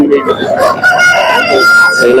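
Roosters and hens crow and cluck at a weekly sheep and poultry market in Baireddipalli, several birds calling close by over a busy crowd murmur.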